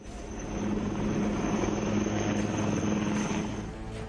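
A light combat helicopter flying, its rotor and engine making a steady, loud, close whirring roar that swells and then eases over a few seconds, with no speech.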